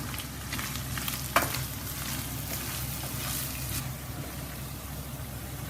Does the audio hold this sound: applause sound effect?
no